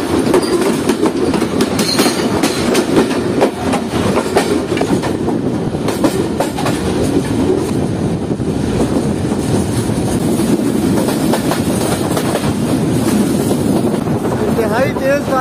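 A freight train rolls along the tracks in heavy rain with rhythmic clickety-clack and a steady rumbling, loud and close, with wind buffeting the microphone.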